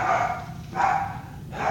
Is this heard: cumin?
no